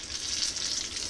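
Steady, close sizzling and crackling of pastries frying in hot oil in a pan, a continuous bright hiss with no voices.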